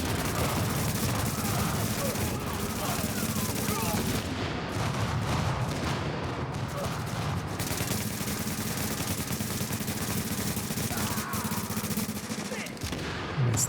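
Loud, continuous video-game gunfire with heavy rapid shots and booming bursts filling the whole stretch, mixed with game sounds and faint voice callouts.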